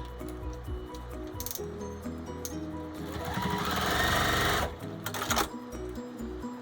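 A sewing machine stitching the seams of a fabric bowl cozy, running in a steady close whirring buzz that speeds up and grows louder midway, then stops. A few handling clicks come after.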